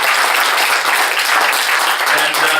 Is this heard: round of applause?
yes